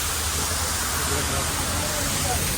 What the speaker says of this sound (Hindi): और नीचे से दरिया जा रहा है जी